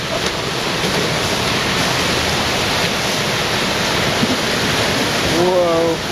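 Rushing river water surges during an ice flow jam, a loud steady broadband roar filling the whole stretch, with excited voices briefly audible near the end.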